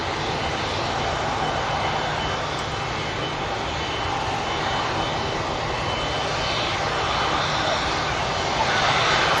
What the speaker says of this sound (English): Turkish Airlines A321 in first before the Qatar 777.